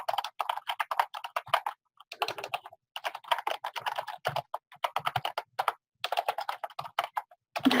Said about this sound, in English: so you can type whatever text here